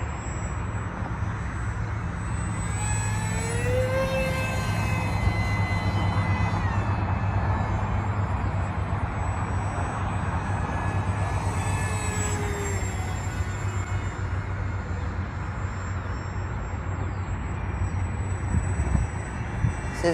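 An AeroScout S 2 1.1 m RC trainer plane flies on its maiden flight, its electric motor whining and sweeping up and down in pitch as it passes, over a steady background hum.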